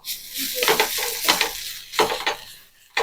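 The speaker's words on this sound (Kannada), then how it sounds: "ಅದೇ ಬಾಣಲಿಗೆ ಕಾಯಿನ ಹಾಕ್ಕೊಂಡು ಫ್ರೈ ಮಾಡ್ಕೋಬೇಕು" Grated coconut fries in a pan for mutton sukka masala, with loud, close scraping strokes of a spatula roughly every half second over a soft sizzle.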